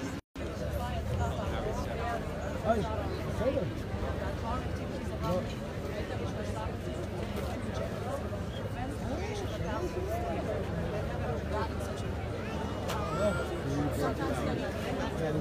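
A crowd of about a hundred people gathered at the walls of Jerusalem on the 9th of Av makes a steady murmur of overlapping voices and chatter, close and continuous outdoors.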